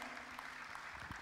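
A brief burst of quiet audience applause at a financial market seminar, soft steady clapping heard at a distance, with a faint voice near the end.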